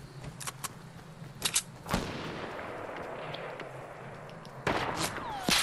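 Enemy gunfire in a Fortnite battle royale match: a few sharp bursts of shots early on, a louder crack near two seconds, then more shots toward the end over a steady background hum, with no clear talk.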